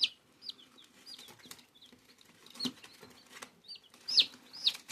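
A hen gives short, repeated high clucks and chirps in bursts. A couple of louder calls come near the end, over faint rustling that may be wing flaps, with no speech.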